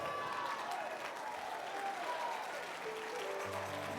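Church congregation applauding at a sermon, steady dense clapping held at an even level throughout, with faint voices mixed in.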